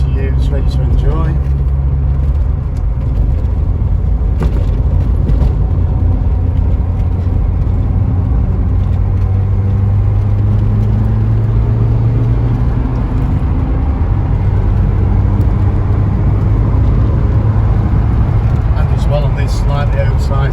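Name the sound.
1985 Ford Escort RS Turbo driving in fifth gear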